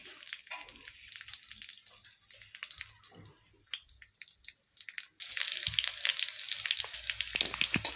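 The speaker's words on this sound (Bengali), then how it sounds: "তেলে বেশ ভাজা ভাজা করে নেব রসুনটা" Chopped garlic fries in hot oil in a kadai, a close, bright, crackly sizzle that rises and falls with stirring, then swells into a louder, denser fizz toward the end.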